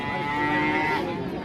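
A cow at a rural cattle market selling cows and heifers gives one long, drawn-out moo that swells and then fades, heard alone with faint background noise and no talking.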